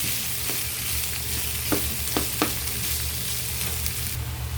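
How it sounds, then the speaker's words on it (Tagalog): String beans fry in a hot pan, giving a steady, loud sizzle close by. Several scraping stirs cut through the hiss, and no one speaks. "ilagay na natin ang string beans. Maluluto na lang siya ng ganyan. Halo lang ng halo, halo ng halo."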